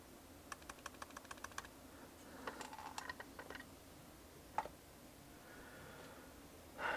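Quiet, close key clicks come from a repaired MacBook butterfly keyboard: an irregular run of single taps, then a denser cluster and a few isolated presses over low room hiss.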